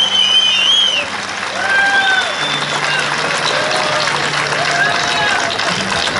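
An outdoor audience in a park applauds a Cretan folk dance group after their performance, steady clapping spread across the crowd with faint whistles and a voice over the applause.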